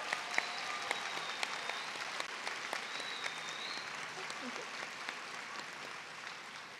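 An audience at a nursing pinning ceremony applauds with steady, dense clapping that fills the whole stretch, sounding moderately distant in a large hall.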